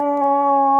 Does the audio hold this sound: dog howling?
yes